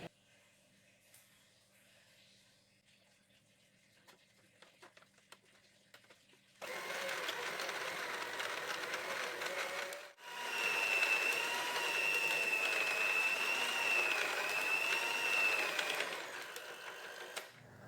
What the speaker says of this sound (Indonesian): Maka pengadukan akan saya tambah lagi waktunya sekitar 5-10 menit, kemudian saya cek kembali.